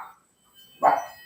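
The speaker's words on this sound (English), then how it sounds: "my dogs are going crazy because they hear your chimes" A dog lets out a single close bark after a brief, fainter yelp, set off by the sound of wind chimes.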